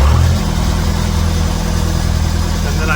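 A generator engine runs loud and close, with a steady low rumbling drone that barely changes over a few seconds.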